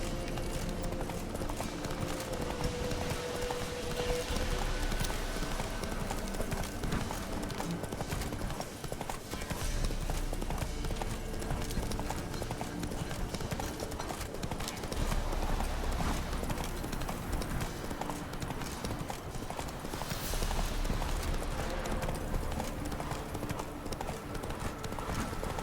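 Hooves of Roach, the horse in The Witcher 3: Wild Hunt, clip-clop in a steady, continuous gallop against a constant game ambience for the full length.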